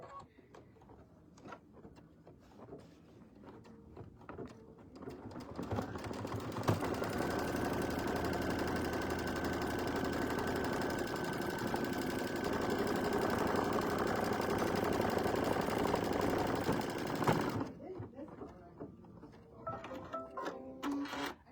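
Sewing machine stitching a decorative stitch on a fabric mug rug, a steady rapid mechanical whirring that runs continuously for about eleven seconds, with quieter handling noises before and after.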